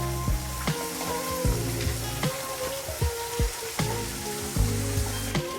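Onions for momo filling frying in a pan, a crackling sizzle broken by repeated sharp spoon taps and scrapes against the metal, close and fairly loud, with no voices.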